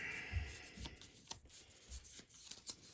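Hand-shuffling a small stack of game cards on a tabletop, several short quiet riffles and rubs, close and faint with brief pauses.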